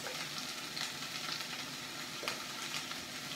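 Chopped onion and pepper sizzle steadily in a hot pan for a ratatouille, a dense, even frying hiss with faint scrapes of stirring running throughout.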